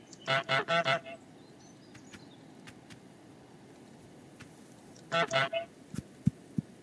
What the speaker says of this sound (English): I will try and do that so I can fast honk